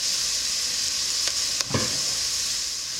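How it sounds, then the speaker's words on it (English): A whole onion frying in about a teaspoon of olive oil, a steady bright sizzle with a couple of brief stirring scrapes partway through, close and alone. "I put like a teaspoon of olive oil in here, and I started just cooking this basically entire onion"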